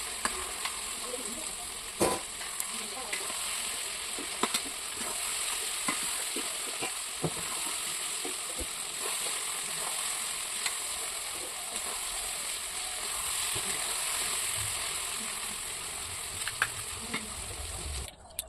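Meat being stir-fried for kosha mangsho in a pan, with potatoes about to go in: a long stretch of steady sizzling broken by repeated scraping stirs and occasional spatula clacks, close and with no voices.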